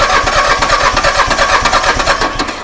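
An Iseki tiny tractor's diesel engine, running on two of three cylinders, cranks in a fast, steady rhythm of loud chugging pulses, close by and with no talk.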